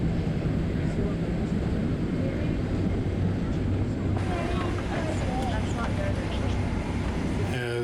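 Cabin of a packed Qantas 747 airliner in flight from Vancouver to Sydney: a loud, constant broadband roar of engines and airflow fills the scene, with voices talking under it.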